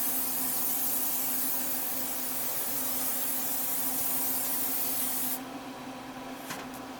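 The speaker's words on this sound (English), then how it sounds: "you want to use some non-stick spraying, so that way nothing sticks to it" Non-stick cooking spray hisses continuously from a can onto smoker grates before cooking pork belly, a close steady spray that cuts off near the end, leaving quiet background.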